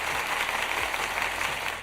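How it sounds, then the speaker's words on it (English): Applause sound effect, a dense continuous patter of clapping like a crowd cheering, steady and moderately loud for the whole moment with no talking. "I'm going to give you guys a nice round of applause."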